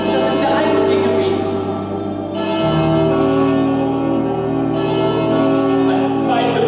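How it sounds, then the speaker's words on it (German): A deep church bell tolls steadily with long ringing overtones, its sustained hum shifting as a second, lower bell joins in. "Eine zweite Glocke."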